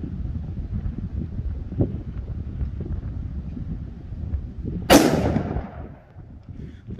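A single loud gunshot from a .500 Magnum fitted with a TII Heavy Pro muzzle brake cracks outdoors over wind noise, then trails off in a decaying rumble.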